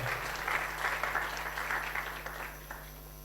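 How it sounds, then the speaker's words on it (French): An audience at an AI startup conference claps for a panelist being introduced, a dense, even wash of applause that holds steady for a few seconds and then tapers off slightly toward the end. "sous vos applaudissements"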